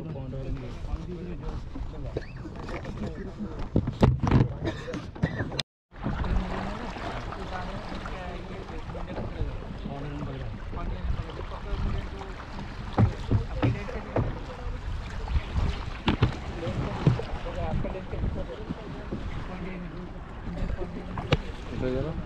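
Boats moving across the water at the Mangalajodi wetland, a steady rush of hull and water noise with occasional knocks, heard continuously beneath a person talking.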